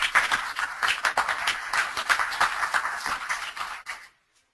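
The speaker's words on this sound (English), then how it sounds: "I would like to give a round of applause to our speakers." An audience at a concrete sustainability forum claps for the panel speakers, a steady, moderately loud ripple of many hands in a hall that thins and stops abruptly near the end.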